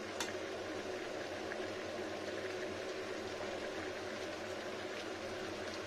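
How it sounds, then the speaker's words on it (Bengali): A papaya and potato vegetarian curry simmers slowly in a pot, giving a steady, soft bubbling hiss that stays even and close throughout with no talking. "ফুটছে, ফুটুক এরকম স্লো স্লো স্লো।"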